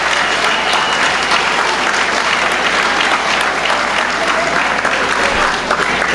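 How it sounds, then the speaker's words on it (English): Sustained loud applause from graduates at a 2014 high school graduation ceremony, a dense steady roar of clapping filling the hall throughout with no break. "with your applause, thank them for all they've done for you and sacrificed to help get you to"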